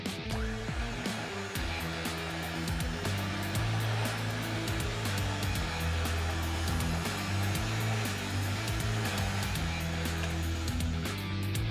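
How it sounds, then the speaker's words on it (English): Superwinch Tiger Shark 11500SR electric winch on a WJ2 front bumper, spooling rope onto its drum under tension, a steady loud motor whine running continuously throughout with faint intermittent clicks. "basically you just keep doing that until the whole winch is spooled up"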